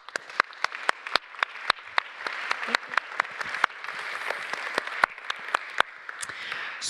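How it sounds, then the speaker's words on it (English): Applause from an audience at an ESS/MAX IV summit, thanking a panel: sparse, sharp individual claps that thicken into a steady round of clapping, fairly close, with a voice briefly heard. "thank this learned and interesting panel with a warm round of applause"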